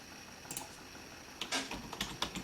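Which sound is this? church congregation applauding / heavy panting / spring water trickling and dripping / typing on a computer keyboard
typing on a computer keyboard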